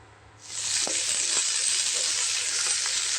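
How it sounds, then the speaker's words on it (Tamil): Okra hits hot oil in a kadai and sautés with a sudden loud sizzle that stays steady, with a few soft stirring clicks underneath. "ஒரு கடாயில் எண்ணெய் ஊற்றி இதை லைட்டாக வந்து வதக்கி எடுத்துகிட்டு வந்துடலாம்"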